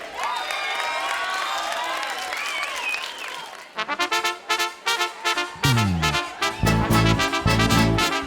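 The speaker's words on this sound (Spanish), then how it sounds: "Fuerte aplauso para Asier." Audience at an outdoor concert in the plaza of Aibar claps and cheers loudly for several seconds, then a band kicks in with punchy, rhythmic chords and a driving bass beat that take over.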